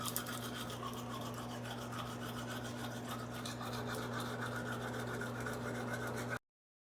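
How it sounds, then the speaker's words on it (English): A man with progressive supranuclear palsy brushes his teeth with a toothbrush, producing a close, steady scrubbing rasp that runs continuously before cutting off abruptly near the end. "Bring toothbrush to mouth and brush teeth for 2 minutes."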